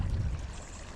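Strong water flow rushing through a cleared culvert at a rebuilt dam site, a steady broadband wash heard close and fairly loud with no talk over it.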